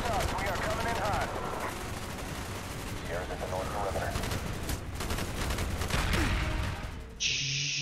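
Rapid bursts of gunfire from a Call of Duty: Black Ops match crackle throughout a busy in-game firefight, with shots and explosions layered over radio-style game voices before a sharper electronic tone cuts in at the end.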